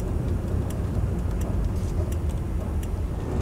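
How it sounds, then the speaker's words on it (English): Steady road traffic noise heard from inside a car on Washington 104 West, a continuous low engine and tyre rumble with a few faint ticking clicks, close and unbroken, with no voices. "A lot of traffic."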